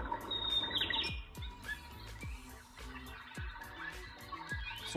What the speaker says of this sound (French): On aurait des styles des moineaux là, ou des pinsons qui chantent.